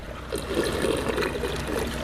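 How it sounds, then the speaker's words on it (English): An aquaponics bell siphon drains water in a soft, gurgling trickle that swells after a quiet start and keeps burbling with small bubbling pulses, close but fairly gentle. "they work utilizing what are called bell siphons. So as you can see, you can even hear that one kind of going."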